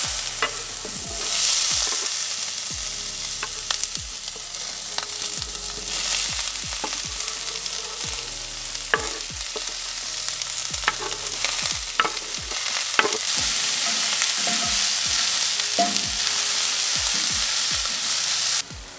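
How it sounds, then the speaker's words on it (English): Onions and peppers sizzle steadily in a hot skillet on a barbecue grill, with a continuous close hiss broken by repeated scraping stirs of a utensil. "Skillet's nice and hot here. We're going to get in first with the onions and the peppers."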